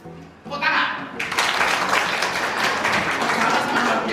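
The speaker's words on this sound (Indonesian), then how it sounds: "Tepuk tangan." Applause from an audience at a university guest lecture, rising after a brief pause into steady, dense clapping from many hands that carries on evenly to the end, with a voice mixed in.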